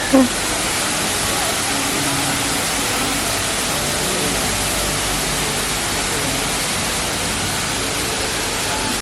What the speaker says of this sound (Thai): แล้วข้างในนี้ก็จะมีน้ำตกด้วยนะคะ